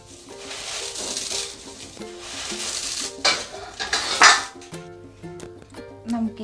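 About one and a half cups of cornflakes are crushed by hand in a bowl, giving loud, close bursts of dry crackling and crunching in several rounds, with faint tonal background sound.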